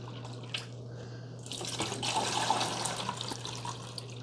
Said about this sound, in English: Let's put water in all of these.